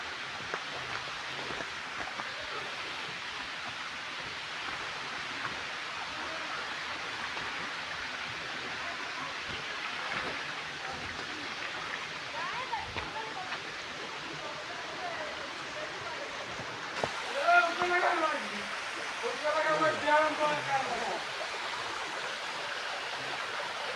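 Water spills steadily from a height over rocks at Chakratirtha in Anandapur, Odisha, a constant broad rushing that fills the scene, with someone talking over it toward the end.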